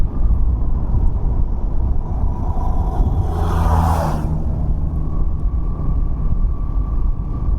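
A Suzuki Burgman Street scooter cruising in eco mode, a steady low engine and road rumble with a constant wash of wind. A brief louder whoosh rises near the middle.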